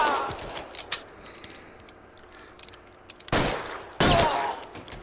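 Gunfire from a bank shootout with police in LA Noire VR: scattered light shots early, then two loud sharp bursts near the end, with faint background voices.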